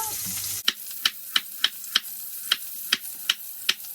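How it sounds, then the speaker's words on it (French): A knife slices vegetables into thin sticks on a board for spring rolls, giving about ten crisp, evenly spaced chopping taps, close and clear, with no speech. "Je vais couper tout doucement en avançant et ça fait des petits bâtons."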